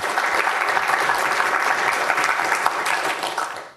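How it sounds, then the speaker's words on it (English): Conference audience applauds a speaker at a tech talk, a dense, steady wash of many hands clapping at close range that holds loud and even for several seconds before tapering off at the end. "Give Jonathan Turner a big hand of applause"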